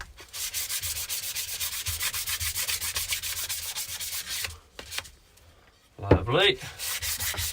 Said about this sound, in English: very light hand sand this needs